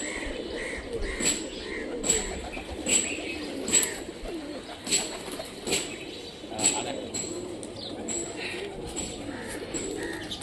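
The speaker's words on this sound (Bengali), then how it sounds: "কবুতরটা খুব সুন্দর আছে দেখতে" A Rajshahi local flying pigeon coos in low repeated throaty phrases close at hand, with brief wing flaps and faint chirps in the background and voices murmuring now and then.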